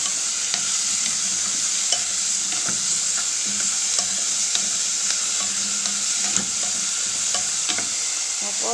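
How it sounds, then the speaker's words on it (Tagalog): Okra is stirred and fried in a hot pan while cooking ginisang malunggay, giving a continuous close sizzle broken by regular spatula scrapes and taps against the pan. "Haluhaluin natin yung okra."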